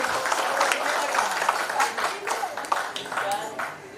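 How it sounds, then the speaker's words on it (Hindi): An audience at a leadership gathering gives loud applause as a speaker is handed the microphone, a thick wash of clapping with a voice talking over it throughout. "एक बार जोरदार तालियां"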